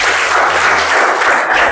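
An audience applauding at a motivational training session, a dense wash of many hands clapping together for a short burst, loud and close, with no talking.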